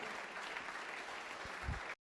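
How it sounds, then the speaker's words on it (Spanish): A church congregation claps in praise during a Spanish-language sermon, a dense, even wash of applause filling the room before cutting off abruptly. "quiero que le des un aplauso de alabanza al Rey de Gloria"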